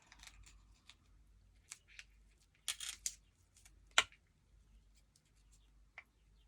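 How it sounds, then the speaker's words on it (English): Scissors snip through paper card, giving a few quiet, sparse cuts and clicks spread over several seconds, with one sharper snap near the end, in a quiet room with no talking. "A pair of scissors."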